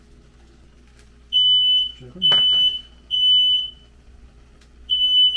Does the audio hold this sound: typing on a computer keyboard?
no